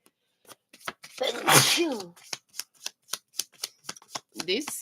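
A single loud sneeze bursts out near the microphone, followed by a quick run of soft rhythmic taps.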